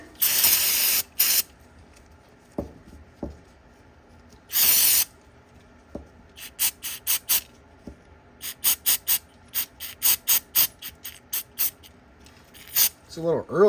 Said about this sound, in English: So we'll brake clean it, and we will then put some grease and put it back together.